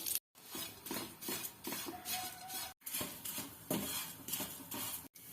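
Flattened rice (aval) is roasted in ghee in a pan, with repeated faint scraping and metallic clinks of stirring broken by brief pauses, quiet and close with no talk.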